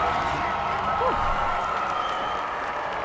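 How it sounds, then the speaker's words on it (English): Dense, steady applause from a crowd in The Witcher 3: Blood and Wine fills the scene, a continuous wash of clapping with faint voices mixed in underneath. "Oh, there's clapping."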